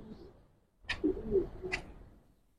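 Giribaz pigeons in a loft give a faint, low coo in the middle of a quiet stretch, framed by a couple of soft clicks.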